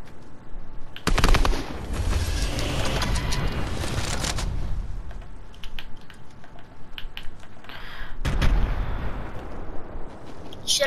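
Gunfire in a shooting video game: two loud bursts of rapid automatic shots with booming impacts, separated by a quieter stretch of softer distant pops.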